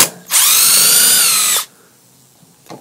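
A Kobalt 18-volt cordless drill backs out bent screws in one loud, close burst of steady motor whine lasting just over a second, then cuts off to near quiet.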